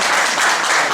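Warm applause from a crowd at an association's New Year pie-cutting event, a brief, steady wash of clapping heard on its own.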